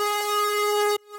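A bright, buzzy synth tone from Serum with the Hyperdimension effect in FL Studio holds steady for about a second and then cuts off sharply, leaving a faint hollow tail.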